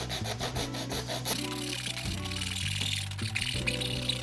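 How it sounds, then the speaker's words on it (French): A hand saw works through a small wooden strip, its quick rasping strokes coming close at first and then continuing as a steadier scraping under a faint tonal background. "j'ai découpé ma petite languette de bois pour qu'elle fasse pile la longueur plus ou moins du sommet de la lampe"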